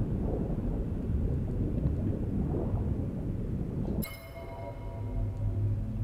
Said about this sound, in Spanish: Pareciera que estuviera lloviendo.